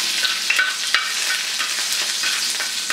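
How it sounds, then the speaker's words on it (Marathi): Finely chopped garlic fries in hot oil on a tawa, a steady bright sizzle with occasional stirring scrapes and small pops, close and continuous. "आता ह्यामध्ये आपण आपला बारीक चिरलेला लसूण फ्राय करून घ्यायचा."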